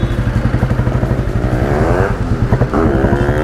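An old Royal Enfield Bullet single-cylinder motorcycle engine thumping loud and close in an even, rapid beat, then revving up briefly with rising pitch and settling back.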